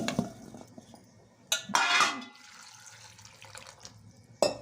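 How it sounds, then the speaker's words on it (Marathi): Grapes being rinsed in a bowl of water to wash off powder residue: splashing and sloshing with a few clinks of a metal vessel, louder bursts near the start, middle and end over quieter swirling. "आता मी धुवून घेते याला हे असे धुवायचे नुसते"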